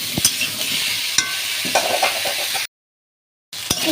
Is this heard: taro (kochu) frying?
yes